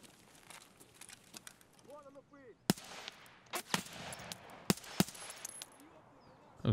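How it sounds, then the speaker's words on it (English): Enemy gunfire in the SPT shooter game comes as several sharp, scattered cracks and pops, some distant and some close, while someone talks over them. "Is he shooting at me?"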